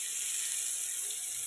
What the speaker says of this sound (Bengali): পটল ফ্রাই করা চলছে